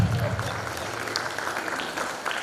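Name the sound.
concert audience applause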